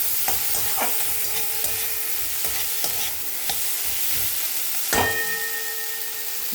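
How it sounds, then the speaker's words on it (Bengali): Spiced masala with chopped tomato frying and sizzling steadily in a pan over lowered gas, with scattered stirring clinks and scrapes and a sharper clatter near the end. "মশলাটা যতক্ষণ একটু ভাজা হতে থাক"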